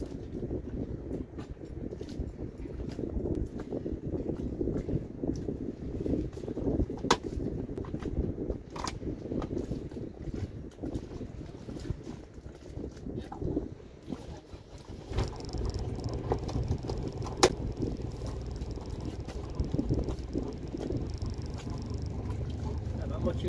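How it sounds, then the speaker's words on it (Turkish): Boat engine idling steadily with a low rumble, exhaust burble and water splashing, heard close and continuous throughout, growing slightly fuller partway through. "Hemen makineyi çalıştırınca kulağım suya, egzozdaki sese gidiyor."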